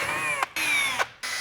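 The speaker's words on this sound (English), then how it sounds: "I'm also going to drill holes in the end of all of my pipes" A cordless power drill runs in three short bursts while boring holes in the ends of hydroponic pipes, whining steadily and cutting out briefly between bursts, loud and close.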